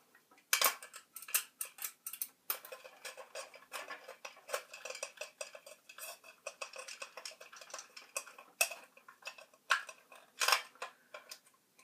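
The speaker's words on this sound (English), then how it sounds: "you're going to want to screw those in with your screwdriver" A Phillips screwdriver drives screws into an M4 during reassembly, making a close, quiet run of irregular metallic clicks and ticks that come in bursts against near silence.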